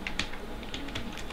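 Fingers type on a computer keyboard in a quick, close burst of uneven clicking keystrokes, moderately loud over a low background hum, with no talking.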